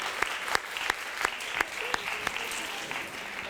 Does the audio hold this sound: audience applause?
yes